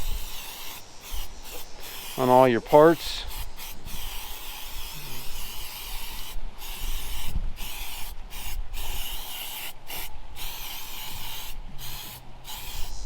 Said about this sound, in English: I'm going to spray some heavy duty silicone on the engine.